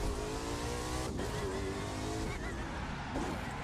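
A car in The Crew 2 drag race, a video game, revs hard in a loud, sustained engine roar with rising and shifting pitch and a brief tire squeal, with no speech over it.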